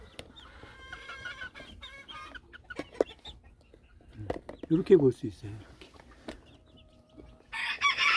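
Small-breed chickens cluck and crow in a newly built coop, with irregular calls and a loud burst near the end, while a person talks in between.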